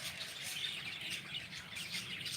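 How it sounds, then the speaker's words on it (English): Small birds chirp and tweet continuously among ferns where they are nesting, a steady bright twittering chorus at moderate distance with no voices. "All these birds flying around,"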